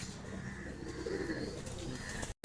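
A Madras pigeon coos softly, a low throaty warble close by against a quiet background.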